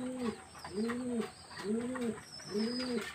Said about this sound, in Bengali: দেখুন এই পায়রাগুলো